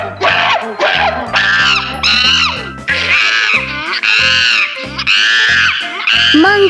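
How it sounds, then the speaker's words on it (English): Monkey screeching in a series of loud, shrill, wavering calls that repeat almost without pause, close and alone with no talk. "Monkey."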